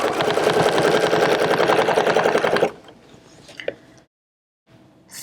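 A quilting sewing machine stitches a template design with a loud, steady rapid hum and needle chatter, then stops abruptly, leaving faint clicks and handling sounds before a brief silence.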